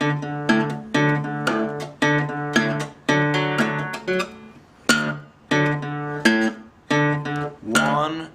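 Acoustic guitar fingerpicked in a repeating six-note Delta blues pattern, steady plucked notes ringing in clear cycles with short gaps between phrases, close and moderately loud, without talk over it.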